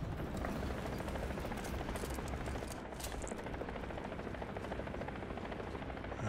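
A helicopter in War Thunder thrums with steady rotor chop for several seconds, moderately distant and continuous, with no voices over it.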